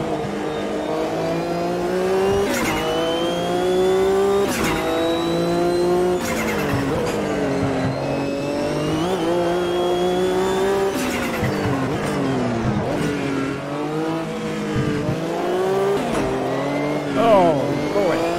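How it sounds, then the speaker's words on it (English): Race car in the AMS 2 sim racing game, engine revving up and down through gears with repeated wheel spin and tire squeal coming out of corners, loud and continuous throughout. "massive wheel spin out of that last corner"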